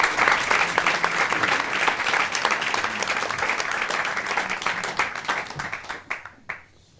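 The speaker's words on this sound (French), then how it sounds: "Je vous demande d'applaudir" Steady applause from a sizable audience, dense clapping throughout that thins out and dies away in the final second.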